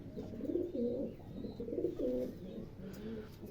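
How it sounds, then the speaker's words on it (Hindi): Pigeon cooing from a teddy pigeon, a breeder bird being handled during vaccination, a low throaty coo repeated in rolling phrases close by, with faint chirps of other birds in the background. "ये टैडी कबूतर है जी"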